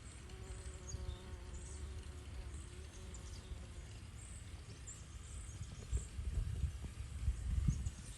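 Steady low buzzing of insects like bees hums throughout, with faint rustling and a slightly louder stretch near the end.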